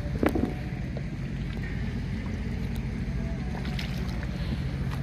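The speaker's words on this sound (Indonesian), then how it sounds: "Angin udah mulai kencang, pasang udah mulai tinggi." Strong wind buffets the microphone at a seashore during a fishing outing as the tide rises, a constant broad roar with water washing underneath and a brief knock near the start.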